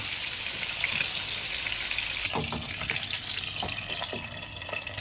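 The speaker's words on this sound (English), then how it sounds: "I'm gonna put it in the fat. Ooh, yeah. Oh my gosh, look, it's like frying it." Steady, dense hissing crackle of pork frying in hot fat, close and loud throughout, with sharper spits and pops in the second half.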